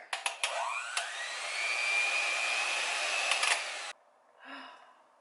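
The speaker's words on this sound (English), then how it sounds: "You have to melt the Shea Butter, you freeze it for a little bit, and then you whisk it." Electric whisk whipping frozen shea butter, a few sharp clicks and a rising whine that settles into a steady high motor buzz for about three seconds before cutting off abruptly, close and fairly loud.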